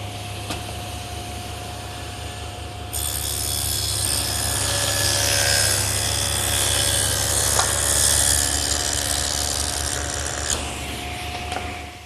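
A table saw with a dado blade cuts a groove between mortises in wooden blanket chest legs, the motor humming steadily before a louder rasping cut for several seconds and then winding down.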